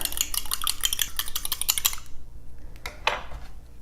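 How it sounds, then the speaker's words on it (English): An egg being beaten for egg wash in a baking kitchen: quick, rhythmic clicking of a utensil against a bowl for about two seconds, then a few scattered taps, close and fairly quiet. "We take 1 egg and beat it up."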